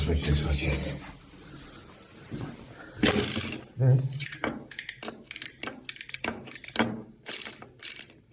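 A bottom entry toilet fill valve being extended and adjusted by hand, giving a run of close plastic ratcheting clicks and sliding rattles in irregular bursts, with a brief low thud midway.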